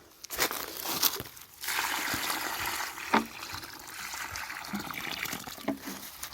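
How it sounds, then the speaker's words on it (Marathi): Water poured around a young coconut palm in a Konkan grove splashes and trickles in uneven bursts, with soft crinkling and a sharp splash midway. "छोटीला घालूया पहिलं पाणी."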